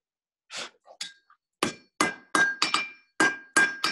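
A blacksmith's hammer strikes an anvil in a demonstration: a few light taps, then sharp, bright ringing blows in an uneven rhythm, close and loud.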